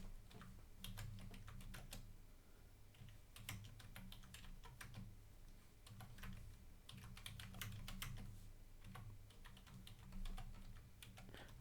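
Fingers type on a computer keyboard, close and quiet, in bursts of rapid key clicks separated by short pauses, with no talking.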